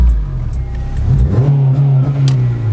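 A tuned Honda Civic EP3 pulls away on a partial-throttle launch, its engine rising loud and close in pitch as it accelerates through a shift.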